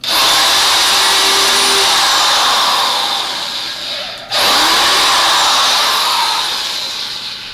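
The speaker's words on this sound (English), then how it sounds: "We're going to sink our last 2 screws into the front. I like them to be pre-drilled." A power drill drives screws into the front of a wooden lockbox in two long, loud, close whirring runs, split by a brief pause as the motor stops and restarts.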